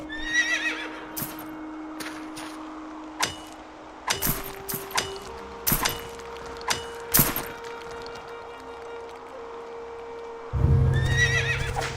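A horse in the video game Quinfall gives a neigh, while hooves clop in a sharp, uneven rhythm of steps close by.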